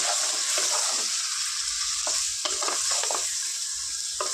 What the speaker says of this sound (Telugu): ఇది చక్కగా ఒక గోల్డెన్ బ్రౌన్ కలర్ వచ్చే వరకు చికెన్ని చక్కగా ఫ్రై చేసుకున్నాం ఫ్రెండ్స్.